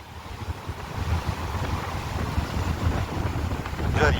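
Sea waves strike a rocky shoreline and splash up in a continuous rough wash. Heavy wind rumble on the microphone partly masks it, with a louder surge at the end.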